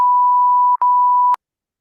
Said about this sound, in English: everything's beeped out